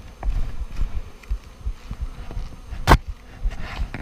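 Honeybees buzz around an open hive during a hive packdown from two boxes to one, a soft diffuse drone close by with one sharp knock partway through.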